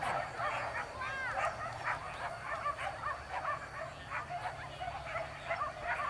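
Dogs bark and yip repeatedly at a dog fight arena, the barks sounding somewhat distant and moderately loud over steady background noise, with intermittent whimpers and voices around.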